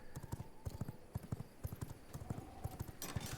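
Horse hooves clip-clop in a steady, brisk rhythm in the V Rising video game, close and fairly loud, with a brief burst of brighter noise near the end.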